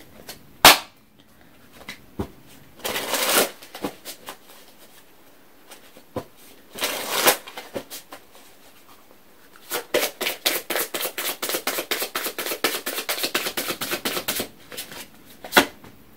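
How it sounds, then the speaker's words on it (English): Oracle cards for a daily twin flame reading are shuffled by hand in several bursts, then a long run of rapid, even riffling clicks close up and fairly loud, with no talking. "let me go ahead and pull a surrender card and see what we have to surrender to for today"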